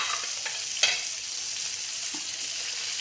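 Tomato sizzling as it fries in a pan with garlic for a creamy malunggay pasta, a steady bright crackle with a few louder pops and stirring scrapes throughout.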